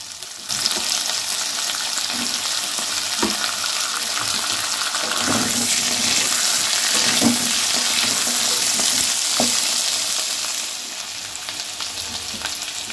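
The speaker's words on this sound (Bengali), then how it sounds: "এই গাজরের টুকরোগুলো দিয়ে আরও একটু ভেজে নেব।" Carrot pieces and potatoes sizzle steadily in hot oil in a pan, a continuous close frying hiss broken by occasional soft taps and stirring sounds.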